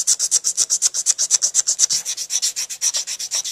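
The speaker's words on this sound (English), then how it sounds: "and when you start sanding" Rhythmic back-and-forth sanding on a hand-made tenor sax mouthpiece, about twenty quick even strokes close up, steady and alone with no talking.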